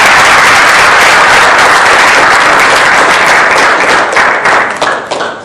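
A large audience bursts into loud, dense applause for contest officials at a speech contest event, sustained clapping that holds steady and then begins to thin out toward the end.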